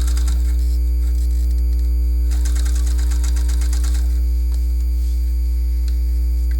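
A sewing machine stitches a seam in stretch woven yoga pant fabric, running in a fast, steady rattling burst that swells in the middle, loud and close, over a strong constant electrical hum.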